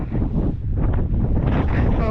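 Strong gusty wind buffets the microphone at the summit of the Old Man of Coniston, a loud, close, continuous low roar with surging gusts.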